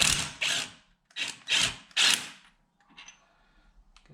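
Five loud, rapid bursts from a power ratchet or impact tool as bolts are backed out of a half axle on a wrecked 2020 VW Tiguan. Fainter metallic handling sounds follow in a quiet workshop.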